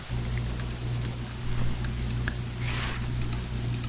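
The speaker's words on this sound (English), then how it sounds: "It's cloudy weather and it's raining, so visibility is kind of gross." Rain falls steadily in a cloudy, low-visibility shooter game level, a dense patter over a low ambient hum with a few louder splashes, no talking.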